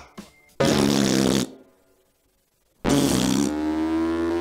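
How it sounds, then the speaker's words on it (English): Two loud, broad fart sound effects, each roughly a second long, separated by a gap of near silence, the second trailing into a sustained buzzy tail. "Fart noises."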